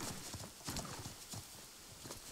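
Horse hooves beating in a quick, rapid rhythm close by while a rider sits the fast, smooth gait of a horse in a stable yard, steady and continuous throughout.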